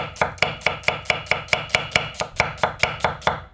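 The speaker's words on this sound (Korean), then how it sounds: "양파를 그냥 다른 거 없어요. 아주 곱게 편썰게 했어요." A knife slicing fresh onion very thinly on a cutting board, with steady, even chops at a quick rhythm, close and crisp, with no talking.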